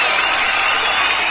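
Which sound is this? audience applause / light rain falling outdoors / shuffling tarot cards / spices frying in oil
audience applause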